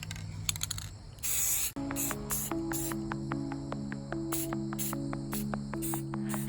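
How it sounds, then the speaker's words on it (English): A short, sharp hiss of spray-can sealer lasting about half a second, followed by music with steady tones playing on. "so I'm gonna spray it first"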